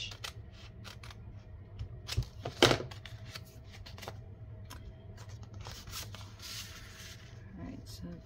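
Paper being cut down to size with scissors for a grunge craft project, soft intermittent snips and rustling handling sounds, close and fairly quiet, with a sharper cluster of cuts midway.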